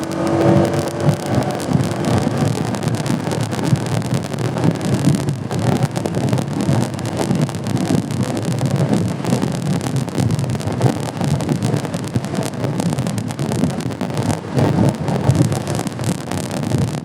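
A car accelerates hard off the start of a race, its engine roaring loud and steady for the whole stretch, with heavy wind buffeting the microphone and no voices.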